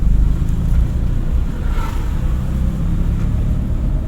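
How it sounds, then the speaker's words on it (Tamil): A car at a driving school pulls away as the clutch is released and the accelerator is lightly pressed, giving a steady, close, low engine rumble inside the cabin with no talking. "இப்படி எக்ஸைட் லைட்டாக தொட்டிங்கன்னா வண்டி போவோம்."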